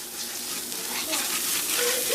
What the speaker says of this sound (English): what I'm gonna do is get the butter and put it on the pan right here